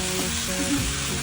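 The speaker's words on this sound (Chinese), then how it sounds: "先把鱼骨煎吊个鱼汤" Fish bones frying in rendered pork lard in a wok, a loud dense sizzle, close and unbroken, with light stirring.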